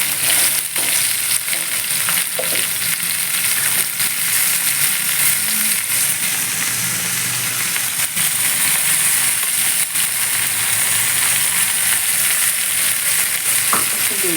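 Drumstick dry curry being stirred with freshly ground spice powder in a pan, a loud, steady frying sizzle with scraping stirring strokes throughout.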